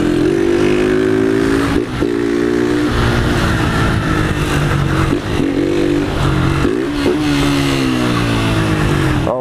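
A blue 2023 Honda Fan 160 motorcycle running without its air filter and fitted with a can exhaust, revving repeatedly in loud, close bursts that rise and drop over a rough idle.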